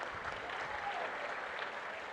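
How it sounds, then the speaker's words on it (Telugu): Audience at a political event with Chief Minister Chandrababu applauding: a dense, even wash of clapping that holds steady throughout, somewhat distant and moderately loud, with no clear voices. "గట్టిగా చప్పట్లు కొట్టి అభినందించండి ఆయన్ని."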